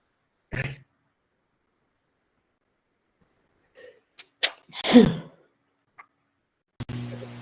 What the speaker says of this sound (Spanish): perdón, voy a estornudar.